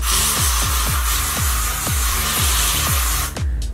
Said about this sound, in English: grabbed my Paul Mitchell hairspray so that I can basically spray the top of my head